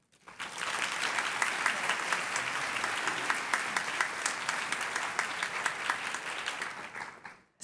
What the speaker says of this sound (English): Let's give them all just a round of applause.